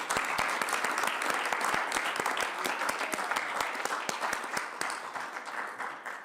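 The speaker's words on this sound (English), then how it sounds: "How about a round of applause for Councilor Di Maria?" A council meeting audience applauds steadily for several seconds, dense clapping nearby that gradually thins and fades toward the end.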